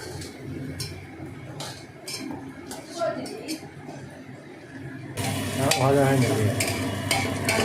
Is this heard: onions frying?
yes